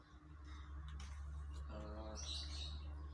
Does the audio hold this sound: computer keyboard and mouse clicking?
no